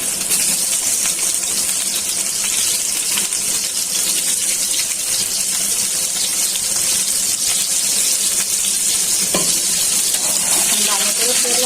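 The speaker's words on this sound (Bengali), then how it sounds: "আর আলুটা ভালো করে তেলে ভাজা নিতে হবে।" Potatoes fry in oil in a home kitchen with a steady, loud sizzle throughout, broken now and then by stirring clinks and scrapes of a utensil against the pan.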